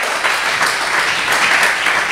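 A church congregation at a Spanish-language service breaks into a steady wash of applause, dense and continuous throughout, with no voices above it.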